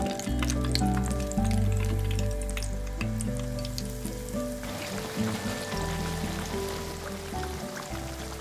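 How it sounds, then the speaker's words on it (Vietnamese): Steady, loud sizzling of eggplant frying in hot oil, continuous crackle throughout, with some clattering and a brief shift midway. "Khi dầu sôi thì mình cho cà tím vào chiên vàng."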